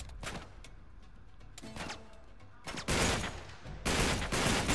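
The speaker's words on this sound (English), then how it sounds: "Boy, this gun got some recoil." Gunfire from a weapon in Uncharted 3: Drake's Deception, with a few sharp single shots followed by loud sustained bursts of rapid fire in the final two seconds.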